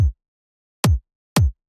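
Three electronic kick drum hits for drum and bass, processed with EQ, a shaper and a clipper, each a short, tight, punchy thump with a clipped tail, the last two close together.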